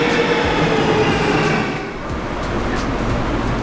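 An Athens subway train rumbles loud and close in the station, giving a continuous roar of wheels and carriages with faint rail clatter as it moves.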